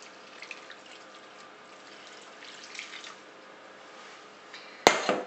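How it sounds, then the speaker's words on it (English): Stock pours softly and steadily into a pan over roast chicken up close, ending with a sharp metallic clink; no one speaks. "So I'm going to pour the stock on over this."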